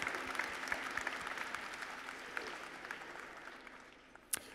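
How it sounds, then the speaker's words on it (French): Applause from a convention audience at a Japan Expo panel on Bioman, steady broadband clapping throughout at moderate distance, fading slightly toward the end with one sharp louder clap near the close. "Ça s'applaudit, ça."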